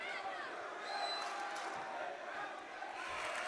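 A loud Bellarmine crowd at a high school basketball game, a dense steady roar of voices, shouts and whoops filling the gym throughout with no pauses.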